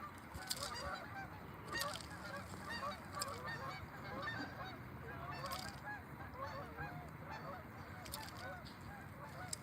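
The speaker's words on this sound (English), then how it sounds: "You hear the Canadian geese making all their noise in the background, honking all over." A large flock of Canada geese honks constantly in the distance beside a trout stream in southeastern Minnesota, overlapping calls forming a noisy chorus with occasional sharp knocks.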